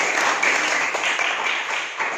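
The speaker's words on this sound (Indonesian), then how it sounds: "Tepuk tangan untuk Iren." A classroom of students claps for a classmate during a lesson, a brief, fairly close burst of scattered hand claps lasting about two seconds.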